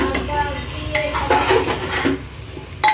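A spatula scrapes and clinks against a pan while a green-chili curry mixture is stir-fried, with irregular metallic taps and scraping strokes over a soft sizzle, close and steady.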